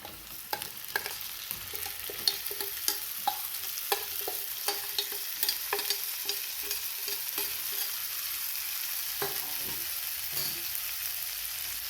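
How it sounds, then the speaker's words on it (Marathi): Fried onion and vegetables with carrots get stirred in a pan, a soft continuous sizzle punctuated by regular clicking scrapes of a spoon, fairly quiet and close. "हे मिक्स करा हे आपण सर्व मिक्स करून घेतलेलं आहे"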